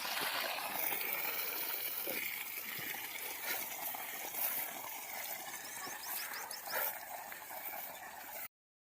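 Water gushes steadily from the 3-inch delivery pipe of a 3hp solar farm pump, a continuous splashing hiss close by that stops abruptly at the end.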